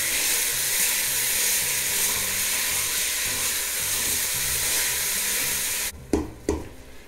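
Lean ground beef sizzles loudly and steadily in a hot pot; near the end the sizzle drops away and a few sharp thuds of a meat masher pressing and breaking up the meat come through.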